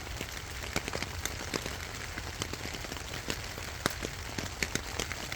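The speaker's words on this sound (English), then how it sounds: "Just raining." Steady rain falls on a surface, with a dense patter of individual drops ticking sharply over a soft continuous wash, moderately quiet and without talk.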